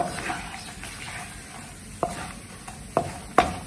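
Food sautés in a pan with a low, steady sizzle, broken by several sharp scraping clacks of a spoon stirring against the pan, close and clear with no talk.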